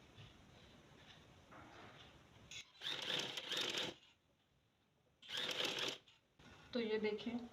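Sewing machine stitching lace onto fabric in two short runs of fast mechanical whirring, close and fairly faint, separated by quiet pauses, with a brief voice at the end.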